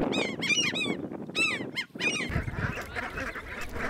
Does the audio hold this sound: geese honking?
yes